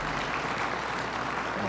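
Audience applause at a city business appreciation evening in Thornton honoring small business owners and elected officials, a steady wash of many hands clapping at moderate level without a break, no voices standing out.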